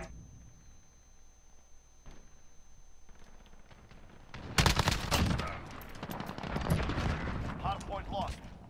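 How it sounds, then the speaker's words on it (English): Rapid bursts of gunfire and explosions in a Call of Duty Modern Warfare Hardpoint match on the Shoothouse map, dense and loud after a quieter start, with a player talking over it. "Running into gunfire."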